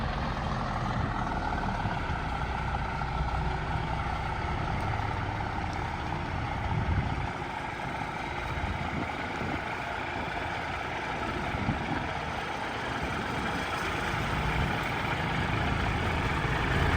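Deep, steady diesel engine rumble of a large lorry arriving and reversing nearby, continuous and fairly loud throughout.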